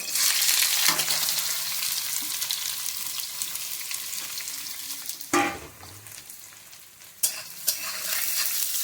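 Vegetables, cashews and raisins fry in hot ghee, a close, steady sizzle with a few sharp clatters of stirring breaking in, no talk.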